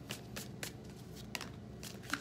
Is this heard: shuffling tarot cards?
yes